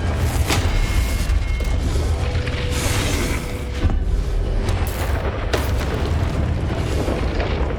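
A Confringo blasting spell from the Hogwarts Legacy video game erupts in a deep, rumbling explosion, with sharper magical bursts and crackles layered over a constant heavy low-end roar throughout.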